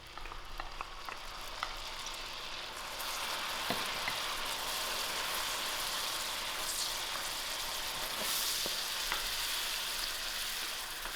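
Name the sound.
onions frying in melted butter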